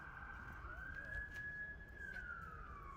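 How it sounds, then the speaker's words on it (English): A wailing siren rises and holds, then slowly falls in pitch as an emergency vehicle passes, over a rumbling background of traffic noise. "So we'll sing it over the sirens."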